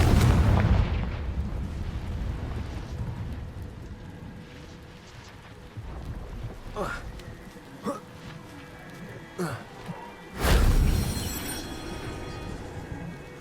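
Confringo blasting spell in Hogwarts Legacy detonating with one heavy, booming burst near the end, preceded by several sharper, smaller cracks over a rumbling, rain-like ambient bed.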